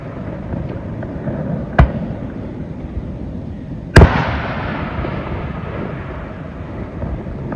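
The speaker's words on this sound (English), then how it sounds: "the second louder explosion is the actual firework explosion" Fireworks on a Pennsylvania farm among mountains: a sharp launch pop near two seconds, then a louder, bigger burst around four seconds that trails off into a lingering rumble of echoes, with steady low background noise throughout.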